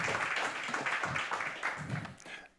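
An audience at an academic workshop on FAIR data and research metrics gives the speakers a round of applause: dense, even clapping from many hands, moderately loud, fading at the end.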